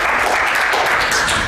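Audience applause after a malware-classification talk at a security conference, a dense steady wash of clapping hands filling the room at even loudness throughout, with no voices over it.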